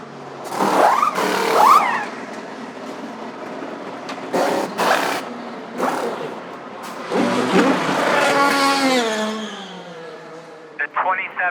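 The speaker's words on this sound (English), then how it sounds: "I got some great sound of a pit stop in action." An Indy 500 pit stop heard up close from the pits: short, loud bursts of air-tool noise, then a race car engine revving high and pulling away, with voices mixed in.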